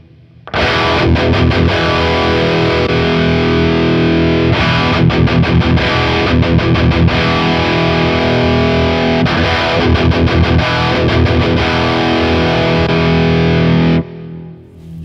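Electric guitar played through a Victory Kraken preamp with the gain eased back slightly, giving a loud, sustained distorted tone with chugging riffs and brief pauses, no voices.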